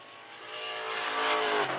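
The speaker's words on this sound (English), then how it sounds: "Next car on the track to take time." A race car pulls onto the track for timed qualifying at the 2024 Boss Hogg 150, its engine note climbing steadily and growing louder as it accelerates, heard alone.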